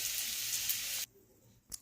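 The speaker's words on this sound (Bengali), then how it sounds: "আলু আর এঁচোড়টা কিন্তু প্রায় ভাজা হয়ে এসেছে।" Potatoes and jackfruit fry in mustard oil in a wok, a soft, steady sizzle and hiss that cuts off abruptly about halfway, followed by near silence and one faint clack.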